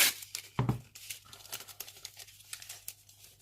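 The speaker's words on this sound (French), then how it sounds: "je rajoute un morceau de scotch" A strip of adhesive tape torn off while boxes are being held together for a keepsake box craft, one sharp ripping burst up close followed by faint crinkling handling sounds.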